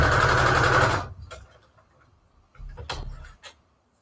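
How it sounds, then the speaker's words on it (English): A sewing machine stitches straight lines through paper at its longest stitch setting, a loud close whirring burst for about a second, then sparse ticks and a second shorter run of stitching. "I'll probably do 2 straight stitches. And I set the stitch to the longest setting because this is paper"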